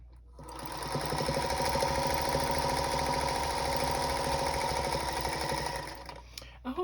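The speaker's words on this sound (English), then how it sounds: "we are going to sew down this side and then down this side on each one a 1/4 inch seam allowance" Sewing machine stitching a quarter-inch seam on charm pack quilt blocks, a steady fast mechanical whirr running continuously for several seconds, close and fairly loud, then stopping.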